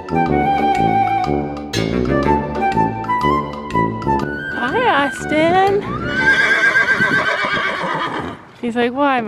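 A horse whinnies loudly several times up close, long rising and falling neighs over a musical background.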